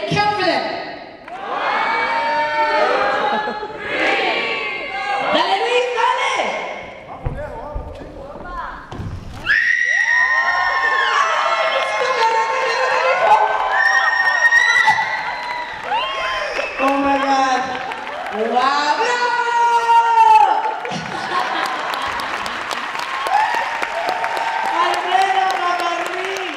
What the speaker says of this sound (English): On the count of three, the crowd counts for you.